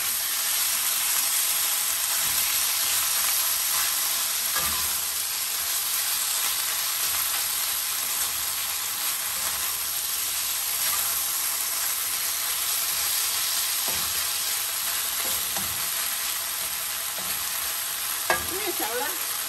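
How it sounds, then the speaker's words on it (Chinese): Beef and egg stir-fried in a wok give a continuous even sizzle with occasional scrapes and knocks of the spatula, steady and moderately loud with no talking. "炒了，可以炒匀了。"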